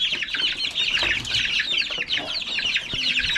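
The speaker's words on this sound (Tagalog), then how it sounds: "So ito yung mga 1 month old natin na mga sisiw." One-month-old chicks cheeping continuously in a dense, high-pitched chorus, close and steady, with faint scuffling underneath.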